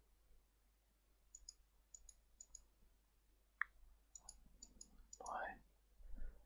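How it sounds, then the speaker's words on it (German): Computer mouse clicking during a Simutrans session, small crisp clicks in quick groups of two or three repeated across the clip, close and quiet, with someone talking briefly in between. "Dreimal klicken."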